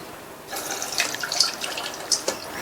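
Water draining and trickling from soaked flattened rice (poha) in a kitchen, a close splashy flow with scattered drips that starts after a quiet moment.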